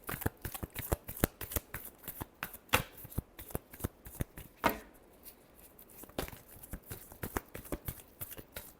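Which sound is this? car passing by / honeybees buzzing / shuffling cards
shuffling cards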